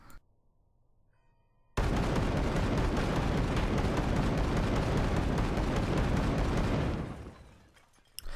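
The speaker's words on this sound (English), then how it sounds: "while the shotgun is fun for doing things like this" Rainbow Six Siege ACS-12 automatic shotgun unloads in one long, continuous roaring burst of rapid blasts lasting about five seconds, loud and close, then fading out, with no talking over it.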